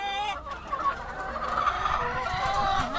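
Chickens in a backyard chicken coop cluck and gobble-like chatter continuously, several birds overlapping in a dense, moderately loud flock din with no talk.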